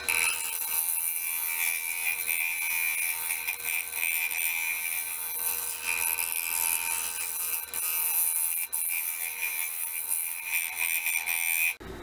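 A wooden bowl spins on a lathe while being worked, giving a loud, continuous scraping and rubbing hiss with a steady motor hum underneath, close and unbroken for the whole stretch.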